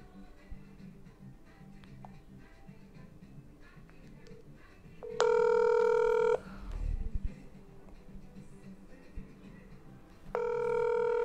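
Incoming WhatsApp call ringing during a live Q&A broadcast: two bursts of a bright, steady electronic ringtone, each about a second long and about five seconds apart, over low background hum and faint noise.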